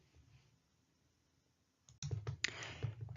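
Sharp computer mouse clicks come as a few close, crisp taps with light desk handling noise, after a near-silent pause, with no talking.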